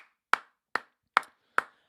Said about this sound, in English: I'm clapping the community. I'm clapping the team.